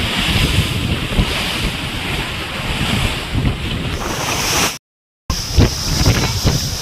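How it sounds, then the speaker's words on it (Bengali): Sea waves splash and surge against a boat riding near the Phi Phi Islands, with loud rushing water and buffeting wind noise on the microphone, one brief cutout of the recording partway through. "জলের ছিটা খুব ভালো মতো আসছে, গায়ে লাগছে"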